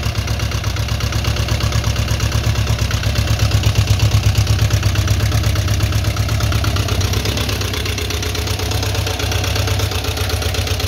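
Volkswagen Type 4 engine fitted in a Beetle, idling on its first start and running rich, a steady loud low throbbing putter with even rhythm throughout, no talk.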